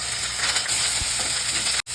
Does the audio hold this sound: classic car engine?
no